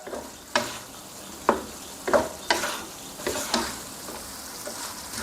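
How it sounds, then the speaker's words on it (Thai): Pork belly sizzles in a hot pan while a utensil scrapes and stirs it in several sharp, irregular strokes, close and moderately quiet. "ผัดให้หมูสุกระดับหนึ่งเลยครับ"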